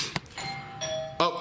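A doorbell rings out a two-tone ding-dong chime twice, fairly close and clear, with a short bump of speech-like noise at the start.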